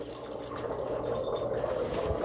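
Basil leaves are rinsed under a running tap, giving a soft, continuous splash and trickle of water close by.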